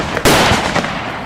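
A single sharp gunshot cracks loudly and close from a vintage horror film scene, a sudden burst followed by a brief decaying tail.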